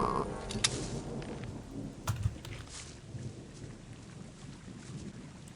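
Rain falling in the fantasy role-playing video game Gothic, a steady broadband hiss with a few low thunder-like rumbles and brief cracks, no talking.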